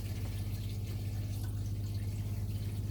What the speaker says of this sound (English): Hear the pump going